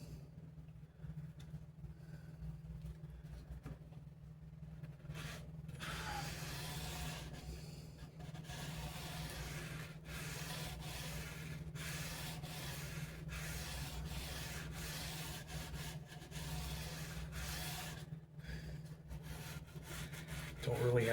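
Hand sanding along the edge of a wooden Squier bass body with 600 grit paper, a soft continuous rubbing with broken strokes over a steady low hum, mostly alone and fairly faint.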